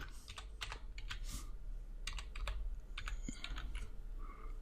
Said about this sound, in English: So I would type in blue lime